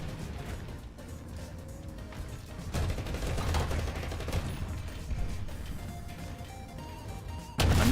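Dense gunfire in a shooting video game, with sustained bursts and rattling shots that run continuously at moderate loudness and end in a sharp final blast.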